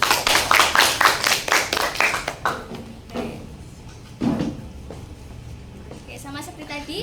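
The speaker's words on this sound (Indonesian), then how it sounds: "Kita beri tepuk tangan untuk kelompok 2." A classroom of students clapping for group 2 during a chemistry lesson, a short burst of rhythmic claps that fades within a couple of seconds, followed by quieter room sounds and a voice.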